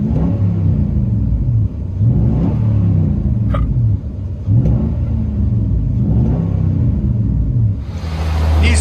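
Nissan Titan 5.6L V8 fitted with a Dynomax race bullet exhaust and 5-inch tip, heard from inside the cab as a deep rumbling drone that rises in several repeated revs, steady and loud.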